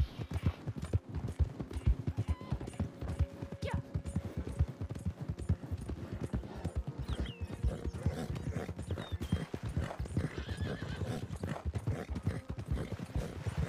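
A wild horse gallops, its hooves drumming in a quick, steady rhythm of clip-clop beats that carries on without pause, with a faint whinny in the mix.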